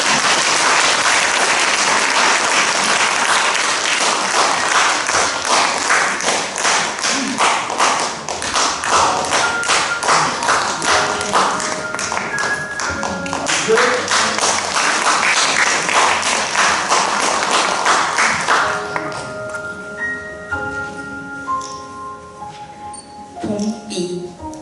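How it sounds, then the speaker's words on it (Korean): Loud sustained applause fills the room at a Daegu writers' association joint book launch in a live café, dense clapping that thins toward the end as scattered claps fade and tonal sounds emerge. "큰 박수로 청해 듣겠습니다."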